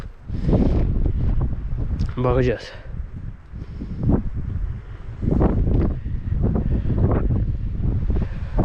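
Wind buffets the camera microphone outdoors on a pasture with grazing cattle in November, a loud continuous roar with gusty swells, while someone speaks over it.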